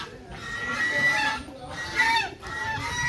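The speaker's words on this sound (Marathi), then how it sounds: "बदक हे बघा" Farmyard ducks honk and squawk in harsh, repeated calls at a farmhouse, fairly close, with a person talking over them.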